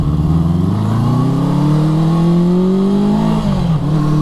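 A 1973 Honda CB350 Four motorcycle engine, warmed up, revs steadily and loudly up to a held mid-range pitch and then eases back, its harmonic drone rising and falling over about four seconds with no talk.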